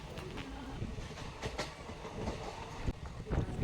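Passenger train running from Aluva railway station toward Thiruvananthapuram, heard from inside a second-class coach: a steady rumble and rattle with rhythmic wheel clicks and a few sharper knocks, close and continuous, with no talk.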